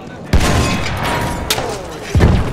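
Anti-tank rocket fire and explosion in a first-person shooter video game, with loud booming blasts at the start and end over a dense, noisy game soundscape.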